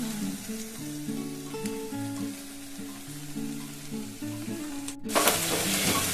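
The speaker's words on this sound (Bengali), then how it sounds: "এখন দেখুন এটাকে আমি এবারে কষিয়ে নেবো খুব ভালো করে" Chana masala spice mix is stir-fried in a pan with the sauce, giving a soft continuous sizzle with stirring scrapes, while tuneful background music plays throughout and a brief harsher scrape comes near the end.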